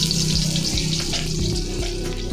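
Oil sizzles and splatters in a pan as tofu and pork cook, a steady close hiss running throughout with a low repetitive background rhythm beneath it.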